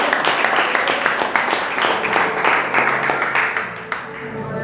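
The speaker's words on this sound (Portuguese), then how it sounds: "Nós recebemos o Diácono Alex com as palmas que louvam ao Senhor" A church congregation claps continuously, a dense steady applause filling the room and tapering slightly toward the end.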